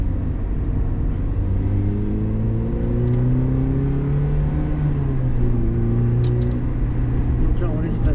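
A race car laps the Le Vigeant circuit during a driving lesson, its engine revving up and down in rising and falling sweeps with gear changes, steady and close. Someone talks over the engine noise.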